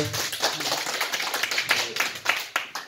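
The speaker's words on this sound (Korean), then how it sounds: "한번 박수 한번 쳐주세요" Audience members at a home church gathering clap together, a close, moderately loud round of rhythmic hand claps with distinct sharp strikes.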